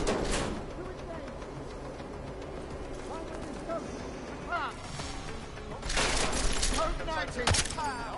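Gunfire in the video game Deus Ex: Mankind Divided, with several bursts of shots and impacts sounding over a steady background of game ambience, the heaviest volley near the end.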